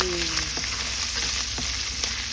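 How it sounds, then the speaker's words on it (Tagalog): Onions frying in hot oil in a pan, a dense continuous sizzle close up with a few soft stirring knocks. "Una natin ilalagay is the sibuyas."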